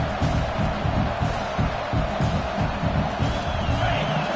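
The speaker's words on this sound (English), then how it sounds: "This crowd knows when to bring it." Dense stadium crowd roar from a Madden football video game, loud and sustained with rising cheers and a broad wash of noise throughout.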